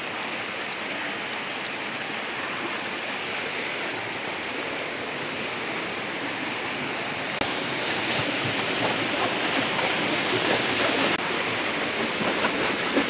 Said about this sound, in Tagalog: Ito yung pinakamagandang falls sa Cavite.